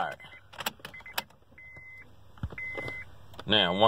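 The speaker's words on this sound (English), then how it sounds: "Now, once all the beeping stops" Short electronic beeps sound from a car, a few steady tones spaced apart amid soft clicks and handling noises, followed by a louder warbling tone at the end.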